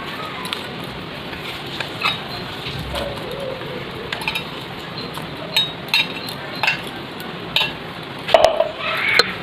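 Finely ground rice paste is worked in a bowl with grated coconut and semolina for palm-fruit fritters; intermittent utensil clinks and scrapes sound up close while a pigeon coos softly in the background.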